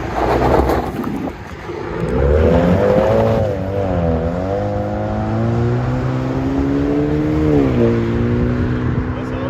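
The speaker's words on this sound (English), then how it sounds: "Camaro 2021. Rear muffler delete and 4-inch tips." A 2021 Chevy Camaro V6 with a rear muffler delete, true dual straight pipes and 4-inch tips rumbles loudly nearby, its tone climbing and falling through several revs over a steady idle.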